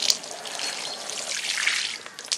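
Water trickles and splashes onto soil around newly planted chayote, turmeric, onion and Cistus incanus, a soft, close, irregular pour.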